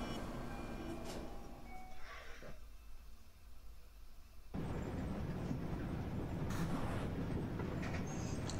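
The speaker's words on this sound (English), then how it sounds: "The train is here." A train arrives in the video game Little Misfortune, a loud broad rumbling roar that dips briefly, then swells back strongly and holds steady.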